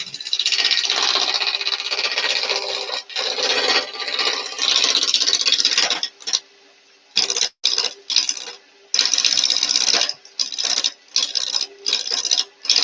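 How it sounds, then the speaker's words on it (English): A wood lathe, in need of a replacement part, is started by hand and runs with a rough, scraping whir, cutting out and restarting in short bursts several times. "my lathe at the moment needs a bit of a kickstart"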